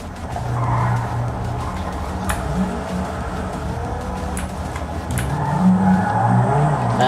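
Racing game car engine droning steadily in a GT game with drawn-out tire squeals as the car drifts, the screech rising toward the end.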